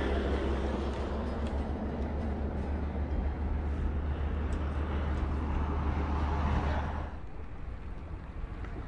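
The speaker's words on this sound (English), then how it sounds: "all the noise you hear and all the cars going over" Steady roar of cars and trucks crossing a bridge over a striped bass fishing spot in Georgia, a continuous low traffic rumble that drops away near the end, with no talking.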